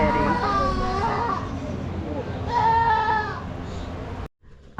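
Goats bleat loudly and close by, a wavering cry near the start and another longer call midway, with crowd noise beneath on a 4-H outing.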